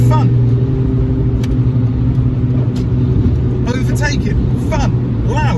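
The engine of an R53 Mini Cooper S drones steadily and loudly from inside the cabin during an overtake, with brief rising whines and someone talking over the noise.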